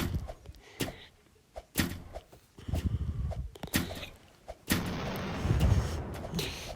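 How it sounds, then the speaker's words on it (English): Pew cannons fire in the Roblox game Revenge of the Slimes, giving several sharp, separate blasts spaced a second or so apart, followed by a louder, denser burst of noise near the end. "Just using pew cannons. Totally using pew cannons."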